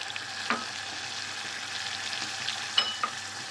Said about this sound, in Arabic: هننزل بالزيت بتاع البصل والثوم. هننزل بالكمون